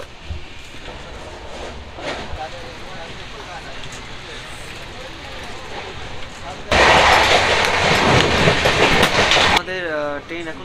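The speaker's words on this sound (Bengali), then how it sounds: "আমাদের ট্রেন এখন ফার্স্ট স্টপেজে ঢুকছে, সেটা হচ্ছে বর্ধমান জাংশন।" A Poorva Express passenger train runs on rails between Howrah and Dhanbad, giving a steady rumble inside the carriage that swells into a loud, rushing roar for a few seconds near the end before easing back.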